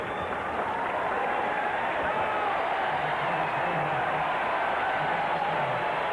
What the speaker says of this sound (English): Crowd reaction for Don Mattingly as he steps to the plate.